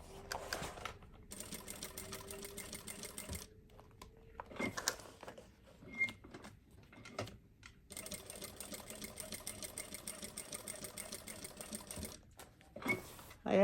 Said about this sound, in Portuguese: Você vem costurando, seguindo o desenho